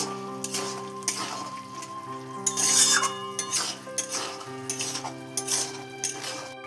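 Boiled peas for ghugni stirred in a pan with a metal utensil, giving repeated close clinks and scrapes in an uneven rhythm over a faint steady hum.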